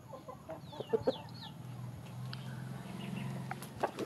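Soft chicken clucks and short calls at a distance over a low steady hum of outdoor background noise, from backyard chickens feeding on bananas.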